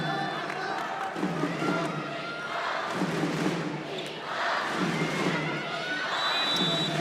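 A 10,000-strong crowd at a women's volleyball Olympic qualifier between the Dominican Republic and Japan swells in rhythmic waves of cheering and chanting, loud and continuous, with a commentator's voice over it.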